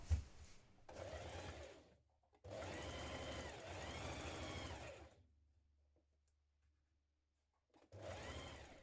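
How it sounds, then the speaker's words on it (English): A home sewing machine stitches around winter coat pocket pieces in two long bursts of steady motor whirring with a pause between, then starts again near the end. "We're now going to stitch around those pocket pieces to keep them together."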